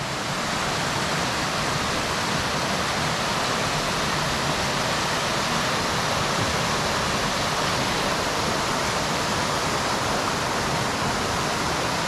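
A natural waterfall in Utah rushes in a steady, dense roar, loud and close, with no break throughout.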